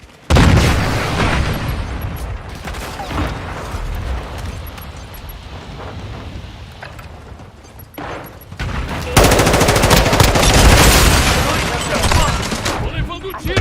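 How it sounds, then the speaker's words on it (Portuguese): Dense bursts of rapid gunfire and explosions crackle continuously in the video game Call of Duty, loud and close, with a brief lull before an even heavier barrage. "Tô levando tiro aqui."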